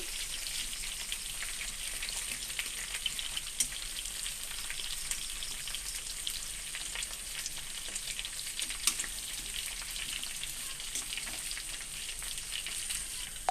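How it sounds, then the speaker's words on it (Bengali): Raw mango pieces coated in salt and turmeric, sun-dried for about two hours, frying in oil in a pan for pickle, giving a steady, fairly quiet sizzle and crackle throughout with no voices. "একটু ভাজা ভাজা মতো হয়ে যাবে"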